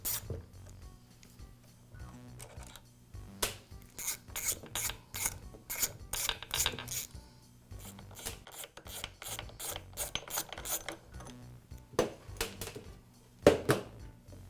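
Screws securing the T-block of a Milwaukee band saw are unscrewed by hand, producing close, quiet, rhythmic ratcheting clicks and scraping turns with short pauses between runs, plus a louder clunk near the end.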